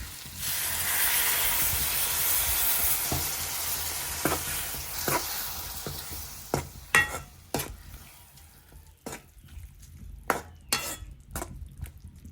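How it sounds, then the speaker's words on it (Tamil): Tomato and dried-fish curry sizzles steadily in a pan while a spoon stirs it, with scattered clinks of the metal utensil against the pan as the frying hiss fades. "பிரட்டி பிரட்டி பிரட்டி பிரட்டி தான் கறி வைக்கிறேன்"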